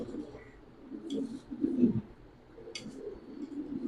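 Pigeons coo softly at a large pigeon farm where high flyer and colored breeds are kept, a low steady murmur of several birds with a couple of brief brighter flutters and no voices.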